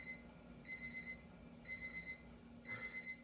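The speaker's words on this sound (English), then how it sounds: "that's my timer going off" A kitchen timer goes off in a quiet kitchen, giving out a faint high electronic beep in evenly spaced bursts, about four of them, each lasting roughly half a second.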